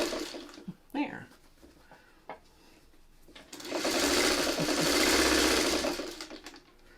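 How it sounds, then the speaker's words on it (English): Sewing machine stitching small pieces of fabric together, starting after a few soft taps and knocks and then running in one steady, close whirring burst of a few seconds. "It actually took longer to sew all these little pieces together."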